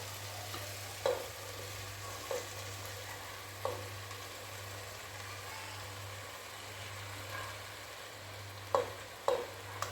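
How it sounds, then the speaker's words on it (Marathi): Pasta being stirred into a masala in a hot pan for a Chinese-style dish, a soft continuous sizzle broken by several sharp spoon or spatula clicks against the pan, with a low steady hum underneath. "आपण आता ह्याच्यामध्ये पास्ता मिक्स करून घेऊया."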